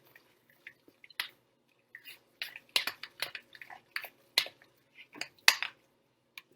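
A spoon works through mashed sweet potatoes with garlic and sour cream, making irregular soft wet squishes and small clicks in short bursts against a quiet background.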